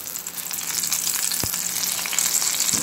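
Tortang talong, an eggplant omelette, sizzles steadily in a frying pan with a bright, continuous crackle of hot oil, close up and alone, punctuated by a couple of soft taps.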